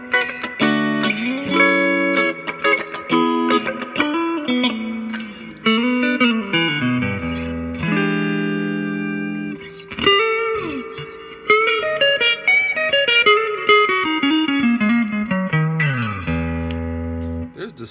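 Electric guitar played through a 1978 Roland GA-20 solid-state 12-inch amp with distortion, loud, close, sustained notes and chords with bends and slides across the phrase.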